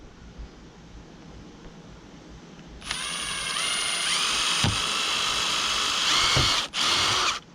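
Power drill boring holes while installing an RV skylight. After a quiet start the drill whines up loudly and runs steadily, dipping briefly once before resuming, close by.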